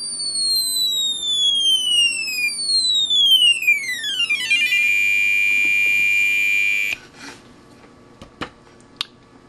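A Harbor Freight Cen-tech P98647 multimeter, a rebranded MasTech, with its continuity beeper: falling, sweeping electronic tones give way to a loud, steady high-pitched beep lasting about two seconds, followed by a few faint clicks in the quiet.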